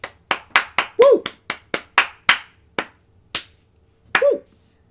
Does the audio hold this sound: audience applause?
yes